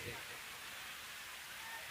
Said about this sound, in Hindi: बारिश अपने शबाब पर है